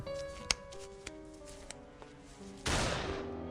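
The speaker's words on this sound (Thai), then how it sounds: "ในขณะพรานเข้มเขาเหนียวไกปืน" A gunshot sound effect in a narrated horror story: a few sharp, quiet clicks come first, then a sudden loud, broad blast that rings on to the end. No speech is heard.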